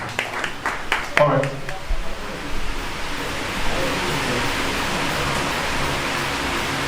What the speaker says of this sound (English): If I've done well together, clap your hands together for me, please.